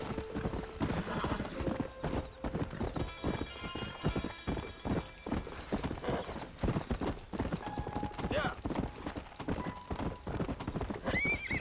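Rapid rhythmic hoofbeats clop steadily throughout, with a horse whinnying and a voice talking over the galloping, in the game Red Dead Redemption on Xbox One.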